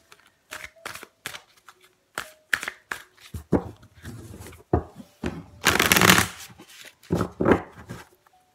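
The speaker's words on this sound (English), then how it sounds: "I'm going to shuffle this deck" Llewellyn tarot deck being shuffled by hand in repeated bursts of riffling and card slaps, with short pauses between, close and fairly loud.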